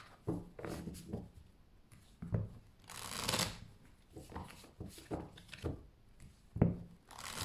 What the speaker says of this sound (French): Allez, on va prendre 3 cartes ici.